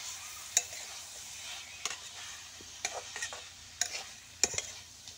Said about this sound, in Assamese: আলুকেইডোখৰ দি খুব সুন্দৰকৈ লৰাই ভাজি ল'ম।